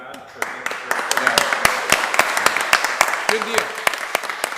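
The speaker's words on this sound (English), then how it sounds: "Round of applause for Tom and for the staff" A small audience at a local candidates' meeting claps in sharp, distinct claps that pick up into a loose, uneven patter, with a few voices calling out over it.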